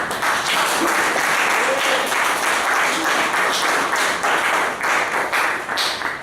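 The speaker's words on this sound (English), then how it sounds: "I think that itself deserves a round of applause, don't you?" At a Toastmasters club meeting, an audience gives a steady, full round of applause that keeps going without a break, with a few cheers mixed into the clapping.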